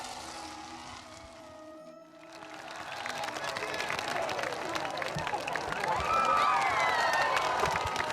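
An audience applauds to welcome Prem Rawat at an event, a dense, rising wash of clapping that builds after a brief lull and grows louder toward the end.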